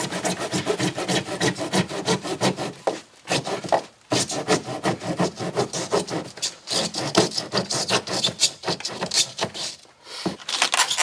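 A saw cuts through hot tub manifold plumbing, a steady run of rasping back-and-forth strokes with a few brief pauses, loud and close with no talk.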